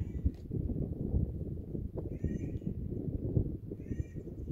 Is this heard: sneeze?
no